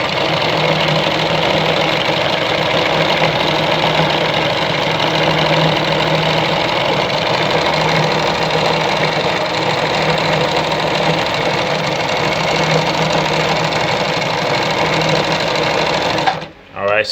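A Jones Brother model 687 sewing machine runs steadily for a long stretch while stitching a combination of decorative designs, its loud, even mechanical whir holding constant until it stops abruptly near the end.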